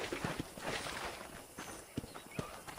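Horse hooves clip-clop in Red Dead Redemption, a steady run of close, moderately loud hoofbeats over a continuous background, with no talk.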